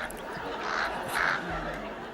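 Crows cawing in bursts, with two or three harsh calls rising over a steady background murmur at moderate distance.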